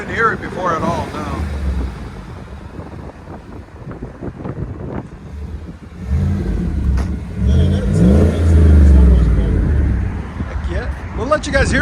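Chevy Silverado pickup with a 5.3L V8 and Borla exhaust, heard from the inside, rumbling low and throaty with a surge of revving near the middle, under wind noise and occasional talk.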